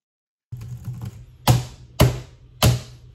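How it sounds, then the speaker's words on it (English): Keyboard typing picked up by a Logitech H650e USB headset microphone on a laptop: light key clicks, then three sharp, evenly spaced louder keystrokes over a low steady hum. "let's do a quick type test"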